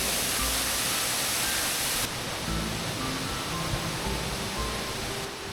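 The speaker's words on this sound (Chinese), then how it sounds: "飞流的瀑布被岩体分割为数段， 好似一串珠帘" Steady broadband roar of the Pearl Curtain waterfall in Shennongjia, a cascade split into several tiers by rock, sounding close and continuous throughout with no talking.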